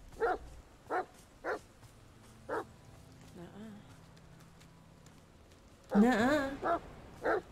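A puppy in The Medium video game gives a series of short, evenly spaced barks, then a soft whimper, then a louder whining yelp with two more barks, all fairly near.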